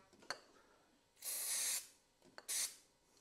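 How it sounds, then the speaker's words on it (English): Two hissing bursts from a spray can of Jig-a-Loo lubricant sprayed onto pinewood derby car axles, the first long and the second shorter, with faint clicks and handling noises between them. "spraying the axles with Jigaloo"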